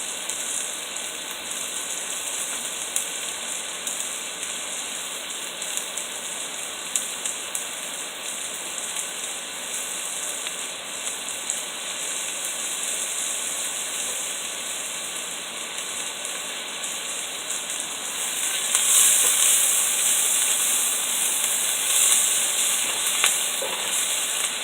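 Bacon and onions frying in a pan for a keto loaded soup, a steady broadband hiss and sizzle that swells louder near the end, with no talking.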